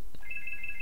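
A telephone rings in the Gnomoria game as a steady, high electronic warble that starts abruptly and holds, clear over a low background hum.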